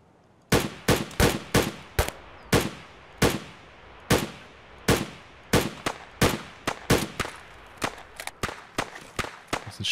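Some twenty sharp, loud gunshots ring out one after another at uneven intervals, each with a quick decaying tail, alone without talk.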